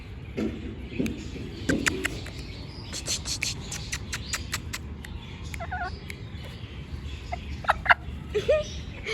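A pet hen gives scattered soft clucks at close range over a low background rumble, with brief pauses between calls.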